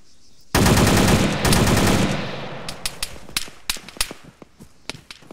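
Rapid gunfire in ArmA 3 during a British airborne infantry section exercise: a loud, dense automatic burst up close, trailing off into scattered sharp single shots and cracks.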